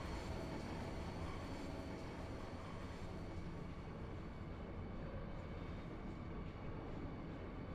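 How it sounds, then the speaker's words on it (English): A train rolls steadily through the Final Fantasy VIII video game, a continuous loud rumble and rattle of railroad cars with no pauses or voices. "This train is bound for East Academy."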